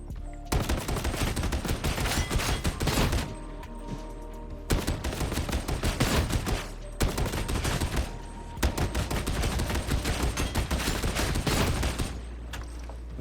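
Gorgona heavy gun with Ceaseless Barrage fired in Darktide, three long sustained bursts of rapid, dense automatic fire separated by brief pauses, loud and close with no talk.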